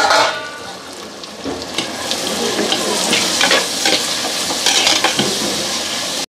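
Onion and tomato sauté in oil in a pan for a spicy Tamil kuzhambu, giving a steady loud sizzle with scraping stirs and occasional clinks of a spoon on metal, with no talking.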